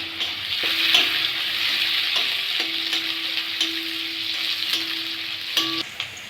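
Onion and bay leaf fry in hot oil, giving a steady, close, loud sizzle that runs throughout with a few light stirring clicks and no talking.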